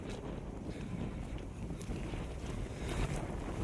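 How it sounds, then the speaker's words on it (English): Wind blows through grassland in a rural village in Ghazipur, Uttar Pradesh, India: a steady, low, gusty rush with microphone buffeting and no speech. "The wind is blowing the grass."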